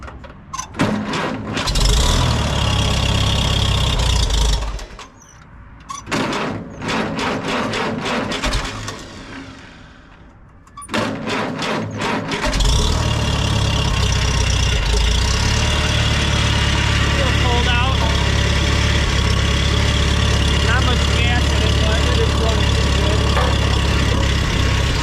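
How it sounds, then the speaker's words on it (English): A Farmall tractor engine cranks in a few sputtering attempts with brief gaps, then catches and settles into a loud, steady, rumbling idle close by. "make sure we're out of gear, turn it on, and probably gonna have to give it half throttle."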